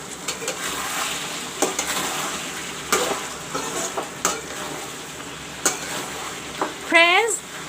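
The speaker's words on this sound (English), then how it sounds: "Now I will let this mutton and the onion cook together." Mutton and onion fry in a pan for mutton curry, with a steady sizzle broken by scraping stirs and utensil taps, close and fairly loud, and a brief high squeak near the end.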